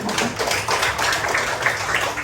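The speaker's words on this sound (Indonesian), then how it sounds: "Oke, berikan aplaus." A classroom group applauds with dense, continuous clapping that stays loud and even for a couple of seconds.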